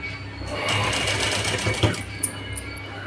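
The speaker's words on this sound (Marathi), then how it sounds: "अशा प्रकारे आपल्याला या अशा चौबाजून शिवून घ्यायचे आहेत पूर्ण" A sewing machine stitches a blouse tassel in a steady, close whirring run, with a couple of sharper clicks toward the end.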